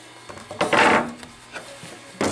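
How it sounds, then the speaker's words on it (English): A wooden sliding dovetail on a chest-of-drawers drawer slides down into its pocket, giving a brief close rubbing, scraping wood sound with a soft knock at the end. "The dovetail slides right down in the pocket."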